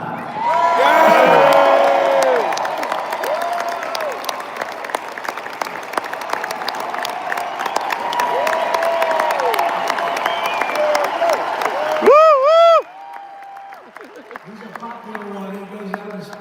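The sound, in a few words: crowd cheering and applauding at presidential inauguration event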